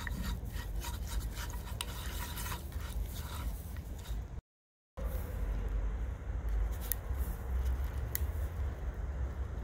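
Steady gritty rasping and rubbing of sand grains scraping against the bottom of a metal part on a Benelli TRK 502 motorcycle, continuous and close with a brief dropout midway.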